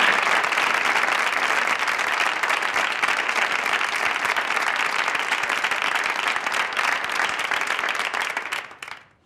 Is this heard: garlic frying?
no